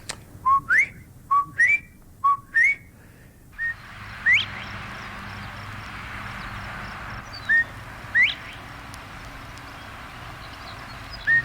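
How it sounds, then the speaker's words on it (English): Northern bobwhite quail whistles, a series of bright rising two-note calls repeated close together at first, then a few spaced calls over a steady background hiss, with no talking. "the Bob White, he has a very distinctive whistle"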